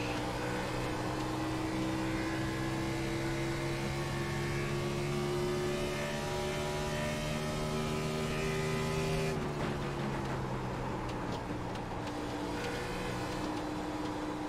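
NASCAR stock car engines in the iRacing sim at Homestead screaming at high RPM, a loud sustained multi-car drone with rising harmonic pitch that abruptly drops and thins near the end, no talk over it.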